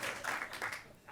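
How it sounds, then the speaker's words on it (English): A short burst of audience applause at a post-election Q&A, faint and brief, a soft patter of clapping lasting about a second. "Okay, I guess you can applaud."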